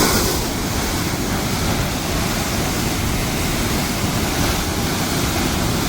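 Steady, loud rush of irrigation water released through a channel, a continuous broadband roar with no pauses and no voices.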